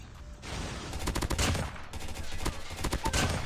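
Rapid gunfire from weapons in the mobile shooter game Call of Duty Mobile, loud bursts of closely spaced shots in quick rhythm, pausing briefly and resuming, with no talk over it.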